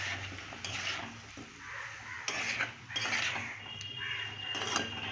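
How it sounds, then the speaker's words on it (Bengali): Tomato mashed in a pan with salt and green chili: metal utensil scrapes and taps against the pan in uneven bursts over a soft simmering sizzle, fairly quiet and close, with no voices. "নুন আর কাঁচা লঙ্কা দিয়ে টমেটোটা মশতে দেবো ভালো করে।"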